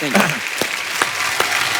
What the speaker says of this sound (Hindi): एक बार जोरदार तालियां एकता, तुषार, मल्लिका और फरहाद के लिए।